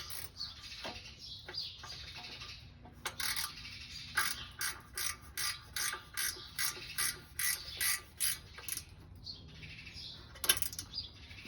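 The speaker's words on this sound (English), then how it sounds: "My ratchet wrench in here." A ratchet wrench tightens a fitting on a Hustler Super Z mower with a Vanguard engine replacement, giving a series of about a dozen close, evenly spaced clicking strokes, with a few scattered clicks before and after.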